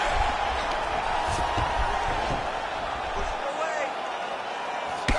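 Crowd at an AFL 75 MMA event reacts to a strike landed from the bottom during ground fighting, a broad arena roar and murmur that runs steadily under a commentator's voice.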